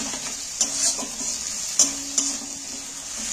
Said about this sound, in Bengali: রসুনটা ভাজা হয়ে গেছে, গন্ধ উঠে গেছে